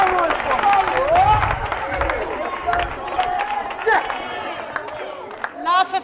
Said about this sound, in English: Can clearly hear the crowd getting behind their man.